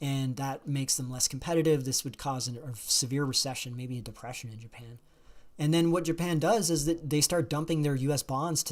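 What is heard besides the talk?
No everyday noises stand out.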